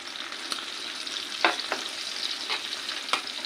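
Small fish fry in a pan with a continuous moderate sizzle, broken by several sharp spatula scrapes and knocks as the pieces are stirred, with no speech.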